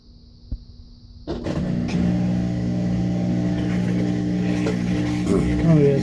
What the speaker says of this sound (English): it's gonna do the final spin to the final drain